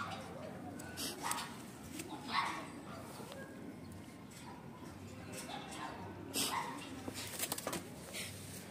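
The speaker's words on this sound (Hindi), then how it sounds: "ये भी मेरे टैडी कबूतर है" Teddy pigeons with white eyes coo softly in a home breeding loft, low murmuring calls repeating under a dog's occasional barks and some background voices.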